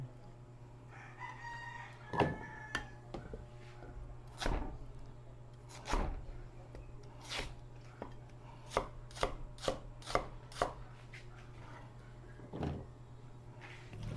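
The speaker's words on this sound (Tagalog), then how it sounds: "Gayatin lang po natin ng ganyan." Knife chopping through ox genitals on a board in a kitchen, a run of sharp irregular cuts growing quicker toward the middle, close and fairly loud over a steady low hum with faint rooster crows in the background.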